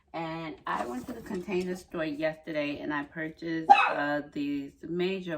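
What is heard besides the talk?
dog barking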